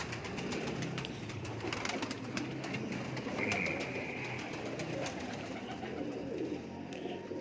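A male pigeon coos in low, rolling, repeated calls nearby, steady throughout over a faint background hum.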